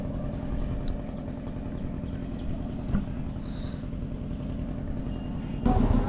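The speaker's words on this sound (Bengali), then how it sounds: "ঘাটে কিন্তু নৌকা চলে এসছে এই যে নৌকা" A boat motor chugs steadily at close range as a boat arrives at a river ghat on a mangrove island in the Sundarbans during the monsoon. The engine rumbles continuously and grows louder near the end.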